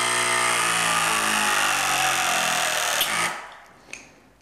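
A battery-operated hydraulic mini crimp tool crimps a lug onto a conductor, giving a loud, steady motor whine for about three seconds that cuts off with a click.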